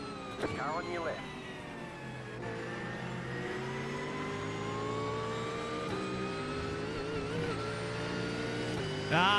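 A GT3 race car engine in the iRacing game holds a high, steady whine that shifts pitch through gear changes and revs, with a player talking over it.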